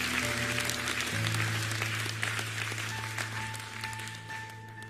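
A church congregation applauding, a dense wash of clapping that swells and slowly fades over a sustained organ or keyboard chord, with no distinct voices on top.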